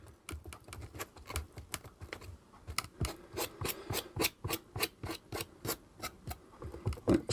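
Cheap homemade texture paste worked into the corners of a model watchtower, heard as a steady series of close, dry rasping scrapes in a fairly even rhythm, with no talking.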